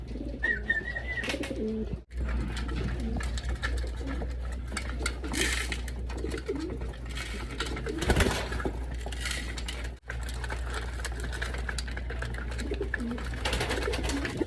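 Pigeons in a loft coo and shuffle while being fed, soft bird calls and rustling over a constant low mechanical hum, with occasional sharp clinks and bursts of flapping.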